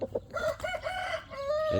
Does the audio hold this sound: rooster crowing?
yes